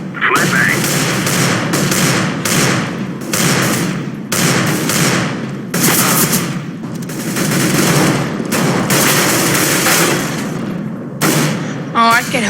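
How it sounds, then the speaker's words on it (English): Flashbang and gunfire from a competitive tactical shooter match, with loud repeated bursts and sharp cracks dense throughout and little pause between them. "I'm throwing a flashbang."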